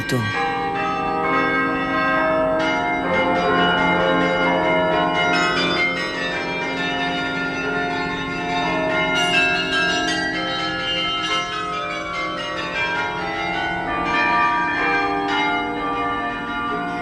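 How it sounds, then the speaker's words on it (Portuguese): Carillon bells of King João V at Mafra, Portugal, ring out a continuous melodic passage, many tuned bells overlapping with long resonant tails, full and steady throughout. "ao amor que nutre pelo carrilhão do rei Dom João V."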